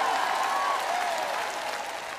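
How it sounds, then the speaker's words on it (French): A church audience responding to a preacher with sustained applause and cheering, a continuous wash of clapping and crowd noise that eases slightly toward the end, with a faint voice over it. "Vous feriez aussi bien d'applaudir et de crier."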